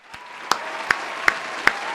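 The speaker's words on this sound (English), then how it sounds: "I think I deserve a round of applause" A handful of slow, evenly spaced hand claps, about five in two seconds, close and crisp over a faint steady background hum.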